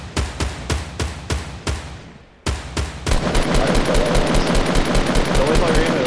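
Rapid automatic gunfire in a video game match, a fast rhythmic burst of shots that breaks off and then resumes as dense, continuous firing, loud and close, with players talking over it.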